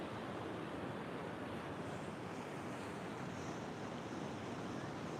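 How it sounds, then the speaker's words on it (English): Waves breaking over the top near the Clarence River by Iluka on a beautiful day, a steady broad roar of surf with wind noise, constant and fairly distant, no voices. "waves are breaking over the top"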